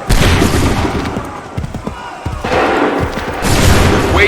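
Musket volleys in Assassin's Creed III crack out as loud, broad bursts at the start, near the middle and again at the end, with shouted orders and battlefield noise between them.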